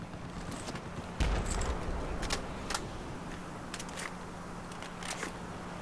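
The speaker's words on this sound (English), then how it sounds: "Reload this beast." Weapon reload in Battlefield 4 on the Gulf of Oman map: a short series of sharp metallic clicks and rattles spaced over several seconds, set against a low, steady background of battlefield ambience.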